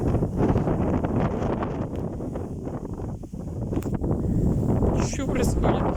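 Strong gusting wind roars through an open field during a storm, buffeting the microphone in a continuous rough rush with swelling gusts.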